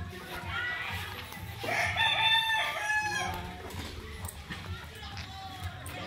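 A rooster crows once nearby, a long, strained call, while chickens cluck and murmur in the background of an outdoor farmyard.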